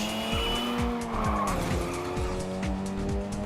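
Race cars in the Little Racers STREET video game slide around corners with the handbrake, high engines droning steadily as tires squeal in repeated short, falling-pitch bursts, loud and continuous with no talking.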